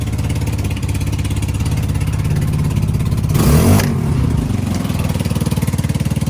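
A 2019 XRX Trailmaster 300 engine idles in neutral with a steady, loud putter, then revs briefly to a higher pitch before settling back to idle.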